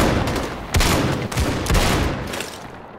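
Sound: shotgun gunfire in the video game Battalion 1944

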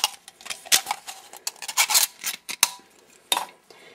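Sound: blade peeling away the rest of a metal can

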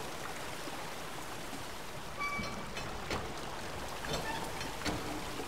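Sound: flowing water at a water gate, from a video game (Obduction)

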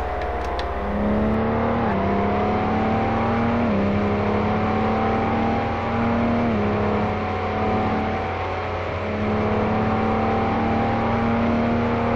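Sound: car accelerating in video game Car Mechanic Simulator 2018

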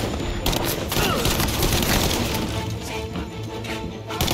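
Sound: gunfire in the video game Mafia: Definitive Edition

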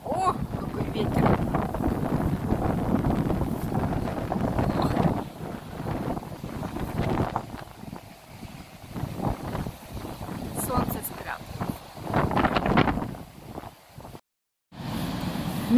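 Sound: strong wind blowing into the microphone

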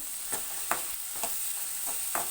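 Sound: onions frying in a pan

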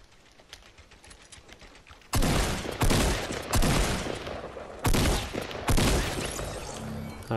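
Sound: gunshots in Fortnite video game

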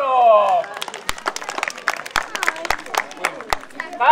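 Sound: audience applause for the bull

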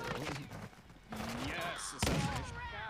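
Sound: sentry turret firing in Call of Duty Modern Warfare II (video game)

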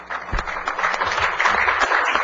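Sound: audience round of applause at a forum

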